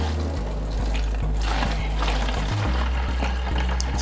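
Apple cider vinegar pours steadily into an old plastic fruit juice jug, a continuous close liquid gurgle and splash with low thumping underneath, no talking.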